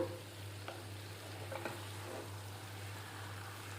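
Green chillies and curry leaves fry in hot oil tempering for an Andhra-style raw banana dish, giving a faint, steady sizzle with a few soft clicks and stirring sounds over a low background hum.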